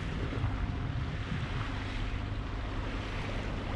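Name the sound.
sailboat motoring under engine at sea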